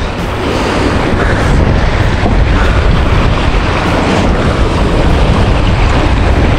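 Strong sea waves and a fast current around a small fishing boat, a dense, continuous roar of surging water and wind buffeting the microphone, loud and steady throughout with no voices.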